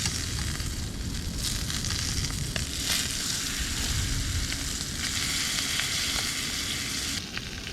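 Duck breast frying in a pan over a camp fire, a steady loud sizzle and crackle that continues throughout with no talk.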